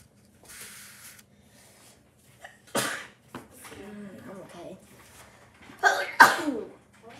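Someone sneezes at a birthday gathering, giving two sharp bursts with quieter rustling and breathy sounds between them, heard close by.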